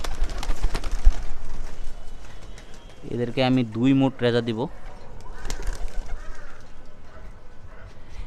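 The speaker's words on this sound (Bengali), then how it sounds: "এখানে টোটাল চোদ্দ পিস কবুতর আছে" Domestic pigeons, fourteen birds being given feed, coo in a short burst of soft, rounded calls near the middle, while someone talks nearby before and after.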